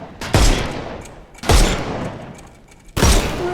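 Three heavy bursts of gunfire crack out in a Sherlock Holmes video game as enemies' armour is shot off, each loud volley followed by a decaying tail, spaced about a second and a half apart.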